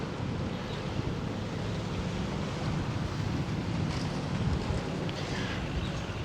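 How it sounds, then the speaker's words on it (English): Strong wind gusts buffet the microphone beside the river in Krabi Town, Thailand, a continuous loud rushing roar with no speech. "It's really windy."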